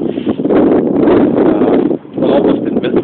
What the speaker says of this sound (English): Oops, that's pretty windy.